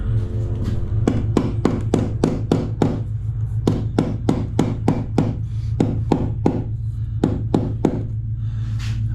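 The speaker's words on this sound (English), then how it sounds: "We get the rubber hammer." Rubber hammer tapping tile into glue while installing a niche: a rapid series of sharp, fairly loud knocks in quick bursts over a steady low engine rumble from a V8 nearby.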